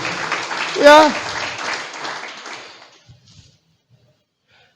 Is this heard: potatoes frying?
no